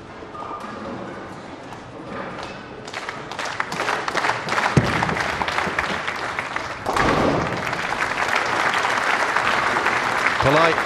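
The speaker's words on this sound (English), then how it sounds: "Polite applause there for Bill O'Neill." Spectators at a ten-pin bowling match clap politely, and the clapping builds from sparse and quiet to a fuller, steady applause. A commentator talks over part of it.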